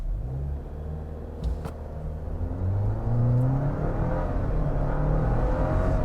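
A 2023 Jeep Wrangler Unlimited Willys with turbo engine and automatic gearbox accelerates hard from a stop toward 60 mph, heard from inside as a deep droning rumble whose pitch climbs steadily and grows louder.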